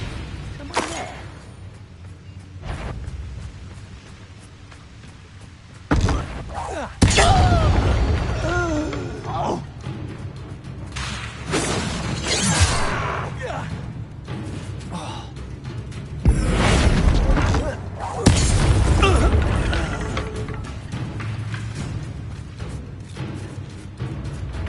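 Bombarda spell blasts go off in combat in the Hogwarts Legacy video game, several loud booming bursts landing a few seconds apart, with a spoken voice and a steady game soundtrack underneath.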